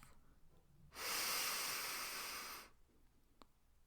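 A single deep breath is drawn in, a steady airy inhale of just under two seconds, close and clear against a quiet room.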